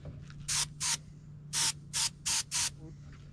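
Short bursts of an airbrush or spray gun misting iridescent gold, blue and violet paint onto a bluegill replica fish mount, six quick hissing puffs at close range over a quiet electrical hum.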